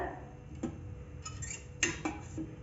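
A pot set down on a gas stove, a few light metallic clicks and clinks scattered over a quiet background, one sharper knock near the middle.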